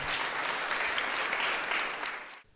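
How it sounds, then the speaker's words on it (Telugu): A church congregation claps together during a holy hour service at Our Lady of Compassion Church: dense, steady applause that holds evenly and then quickly dies away at the end. "చప్పట్లతో ప్రభుని ఆనందించుదాం"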